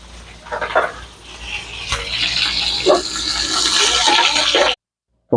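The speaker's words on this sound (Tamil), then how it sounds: "கருவேப்பிலை, வெங்காயத்தை இதில் சேர்த்துங்க." Curry leaves, red chillies and onion hitting hot tempering oil with mustard seeds and fenugreek for tiffin sambar, a loud continuous sizzle and crackle building and holding, then cutting off abruptly.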